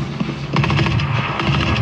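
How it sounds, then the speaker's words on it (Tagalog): Gunfire from a shooting video game rattles in rapid, dense bursts over a low hum, picking up after a brief quieter start and staying sharp and steady to the end. "nakaririnig niyo yung baril"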